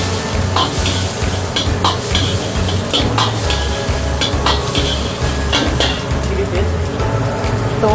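Garlic, onion and capsicum stir-frying in hot oil in a restaurant kitchen for dry chilli chicken, a loud steady sizzle with repeated sharp scrapes and clanks of a ladle against the wok throughout.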